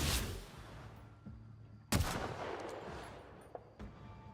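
Gunshots in The Outer Worlds on Supernova difficulty, fired at a target in the trees near Edgewater: two or three sharp, loud shots with decaying tails, each cracking out over a quiet outdoor game ambience.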